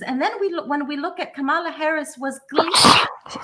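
A single sharp sneeze bursts out near the end, cutting in after steady close-mic talk during a live US election broadcast.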